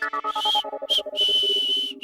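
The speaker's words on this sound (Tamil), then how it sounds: "விசில் கேக்குதா? விசில் ஒண்ணு." A whistle blown in a Tamil TV serial scene: several sharp, piercing blasts of varying length, loud and close, over a steady tonal background.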